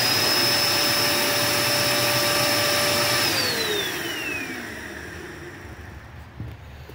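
A Dirt Devil Endura Max UD70175 upright vacuum with a clogged hose runs with a loud, steady whine, then its motor pitch drops as it spins down over several seconds, fading toward quiet.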